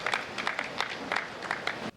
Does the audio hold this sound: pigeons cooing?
no